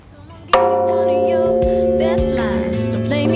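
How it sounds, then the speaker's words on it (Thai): A large, hundred-year-old temple bell at Wat Sangkat Rattanakhiri on Khao Sakae Krang in Uthai Thani, Thailand, is struck once, giving a loud, sharp hit followed by a long, rich, humming ring that sustains to the end. "ใครที่มาแล้วก็ตีระฆังนะคะ"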